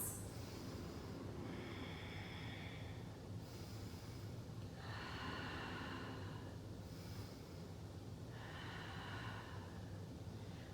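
Steady slow breathing during a restorative yoga flow, three calm breath cycles with soft airy inhales and exhales rising and fading over low room hum, no talking.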